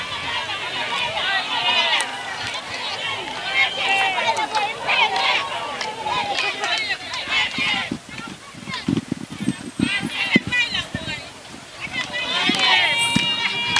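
Protest crowd in the Gambia, a steady hubbub of many voices with shouts and chatter, footsteps and movement close by, and someone talking over it.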